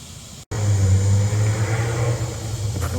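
Road traffic rumbles past near the Sam Houston homes in Huntsville, Texas, with a loud, low engine drone swelling after a brief dropout and staying steady and close.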